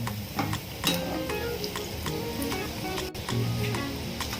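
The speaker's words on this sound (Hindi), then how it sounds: "इसे आपको मीडियम फ्लेम पे ही फ्राई करना है" Baby corn frying in oil over a medium flame, a soft steady sizzle with scattered ticks and pops from stirring, faint and close, with no talk.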